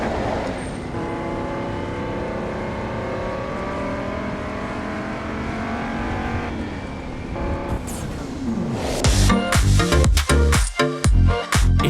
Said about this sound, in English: I grabbed the fastest car I could and threw on those tyres and raced up the mountain